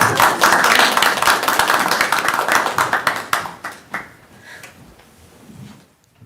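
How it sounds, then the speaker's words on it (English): A small room at a county board of health meeting claps for newly sworn-in members, a loud close burst that thins to a few scattered claps and fades out after about four seconds. "let's give them a round of applause"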